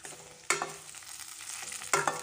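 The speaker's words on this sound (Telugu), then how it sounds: "ఇలా రెండు ఎండుమిర్చి కరివేపాకు వేసుకొని వేపుకుంటున్నాను" Dried red chillies and curry leaves fry in oil for rasam, giving a soft low sizzle broken by two sharp stirring clatters of a spoon against the pan.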